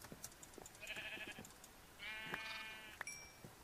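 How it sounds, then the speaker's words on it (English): Sheep in a video game give a few short, nasal bleats in quick succession, faint and close, along with small clicks and game noises. "The sheep I might not want to kill, because you can just shear them for wool."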